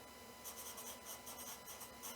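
A pen scratches across sketchbook paper in short, quick strokes, close and quiet, with brief pauses between the bursts of writing.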